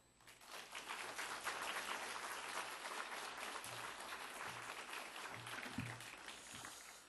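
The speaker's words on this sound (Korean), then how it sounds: "우리 박수로 환영하겠습니다." Congregation applause in a Korean church service welcoming a pastor, with clapping that rises quickly and stays even throughout before easing off slightly at the end.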